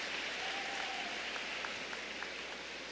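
Church congregation applauding steadily across the full stretch, a dense even wash of clapping with no distinct talk on top.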